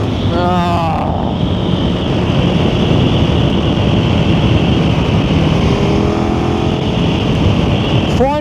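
A KTM Superduke 1390R Evo street bike riding at steady speed, with a continuous engine drone and heavy wind buffeting across the microphone throughout, loud and close, with no talking.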